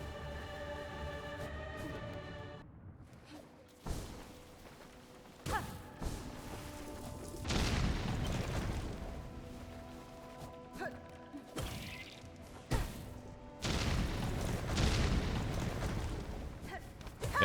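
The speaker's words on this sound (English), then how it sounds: "Every explosion deals 2 masks of damage." Explosions in Hollow Knight: Silksong, a series of heavy booming bursts and crashes at irregular intervals, some long and roaring, loud against quieter game sound between them.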